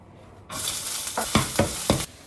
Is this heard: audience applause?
no